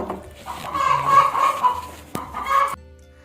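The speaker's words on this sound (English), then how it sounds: "H for hen." A hen gives a short run of warbling clucks and calls lasting a few seconds, moderately loud and close, with no talking.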